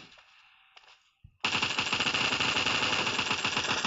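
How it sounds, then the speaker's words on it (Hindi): Rapid automatic fire from an AK rifle fitted with a compensator in a video game, a sustained loud burst of dense, evenly spaced shots running for over two seconds after a few quieter clicks and handling sounds. "ये रहा एके का फायर,"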